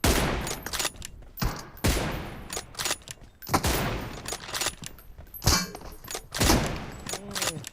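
Rapid bursts of gunfire in a team deathmatch shooter game, loud and close, with sharp shots and rattling volleys separated by brief pauses, and a voice talking between them.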